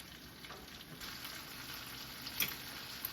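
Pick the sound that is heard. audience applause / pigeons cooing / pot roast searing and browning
pot roast searing and browning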